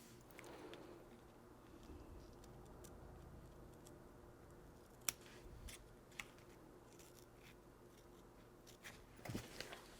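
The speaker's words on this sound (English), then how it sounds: "we're going to start the cutting right at this point so then it can continue with our stitch" Scissors snipping through fabric while trimming an in-the-hoop embroidered bear outfit, a few quiet clicks and cuts over a low steady background hum.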